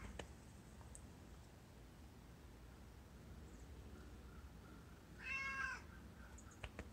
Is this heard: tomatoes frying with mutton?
no